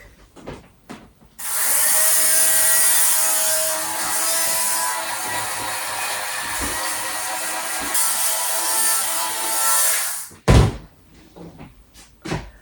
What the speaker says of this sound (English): I'm going to just hit it with the sweater shaver real quick.